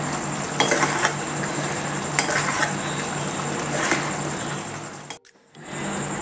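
Chicken pieces being added to a simmering gravy and stirred in a pan for a stuffed chicken dish, with a steady sizzle and scraping stirs throughout and a brief pause near the end.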